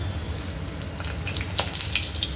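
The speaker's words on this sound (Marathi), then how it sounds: "थोडेसे जिरे टाकूया आपण। तेल गरम झाले आपलं।" Cumin seeds sizzle in hot oil while shepu bhaji (dill greens) is being cooked, a steady close frying crackle with a few sharper pops near the end, and no voices.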